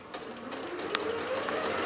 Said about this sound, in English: all we're doing is sewing the bottom of the mask now, but let's go back to a straight stitch